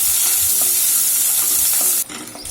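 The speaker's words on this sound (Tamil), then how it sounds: "2 பச்சை மிளகாவையும் கட் பண்ணது, 2 வரமிளகாய் கட் பண்ணதையும் சேர்த்துட்டு கொஞ்சமாக வதக்கிக்கணும்." Shallots with chopped green and dried red chilies sauté in a pan, a loud, bright, continuous sizzle with soft stirring knocks, dropping suddenly in level near the end as the frying noise shifts.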